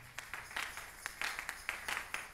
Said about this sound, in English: Let's put our hands together for Jesus Christ.